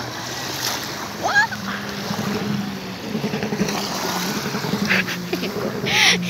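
Sea waves wash up along a shore, a steady broad wash rising and falling under wind noise on the microphone, with faint voices at moments.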